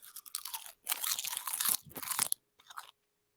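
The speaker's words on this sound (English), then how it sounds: "That is some crunch" Very dry, crunchy food is chewed up close in loud, rapid bursts of crackling bites, with short pauses between them.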